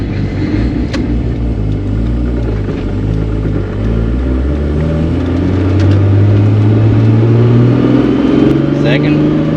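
A Toyota Supra fitted with a refreshed Getrag V160 gearbox drives along with a clunking drivetrain, its engine droning and rising in pitch as it accelerates, loud and close, with a person talking over it.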